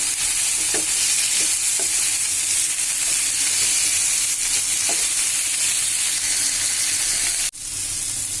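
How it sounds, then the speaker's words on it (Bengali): Shrimp fry with salt in a hot pan, giving a loud, continuous close sizzle with occasional scraping taps as the pieces are stirred, then a brief dip near the end. No talking. "চিংড়ি মাছের জন্য হাফ চামচের মতো লবণ দিয়ে এটাকে কিছুক্ষণ ভাজি করব"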